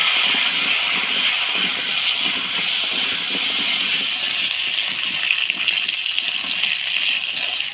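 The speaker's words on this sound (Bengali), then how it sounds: "এবার আলুগুলো অল্প হলুদ লবণ দিয়ে ভেজে নিব।" Potatoes frying in a pan with a little turmeric and salt give off a steady, loud sizzling hiss that continues throughout, with no talk.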